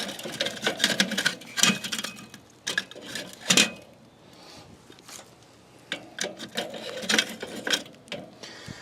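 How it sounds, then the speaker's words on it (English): Burning charcoal lumps are scooped and dropped into a metal charcoal chimney, giving repeated scraping, clinking and rattling bursts with short pauses between them, close and fairly loud. "I'm going to take our burning charcoal and put it in our charcoal chimney"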